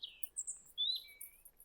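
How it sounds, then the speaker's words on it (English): Wild birds chirp near ruins of a monastery in Germany, giving high, clear whistles and short tweets in scattered bursts over a quiet outdoor background with no talking. "Hear the birds as they stop."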